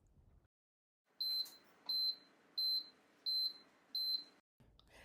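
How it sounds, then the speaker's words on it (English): An Ultra Infuser appliance signals the end of its decarb cycle with five loud, evenly spaced electronic beeps, each a short bright tone, heard close and alone in an otherwise quiet kitchen. "When the decarb process is finished, you'll hear a few loud beeps that sound like this."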